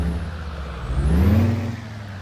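A low truck engine in Euro Truck Simulator 2, a Peterbilt 389, rumbles steadily, its pitch rising as it revs up then settling back down, with no talking.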